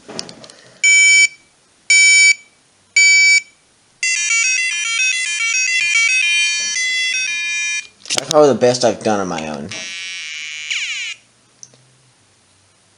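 A Rubik's Revolution electronic puzzle toy plays a run of bright beeps, then a quick chirpy melody and a swooping warble. A person speaks briefly near the end.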